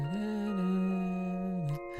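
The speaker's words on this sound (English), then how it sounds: "That is the sound of copyrighted music that we cannot use." Copyrighted Harry Potter theme music plays as a sustained tonal melody with a steady pitch line and bright overtones, moderately loud and unaccompanied for about two seconds before cutting off.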